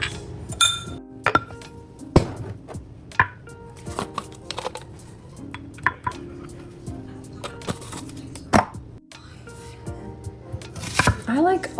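A knife chops a large onion on a board in a series of sharp, irregular knocks and clinks, close and distinct, with a few bright glassy rings mixed in and a voice speaking between the cuts.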